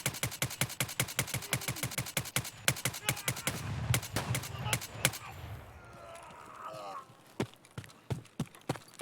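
Lone Star TX-15 DML rifle fired in Escape from Tarkov: a long, rapid string of loud, evenly spaced shots, a short lull with scattered noise, then a few more spaced shots.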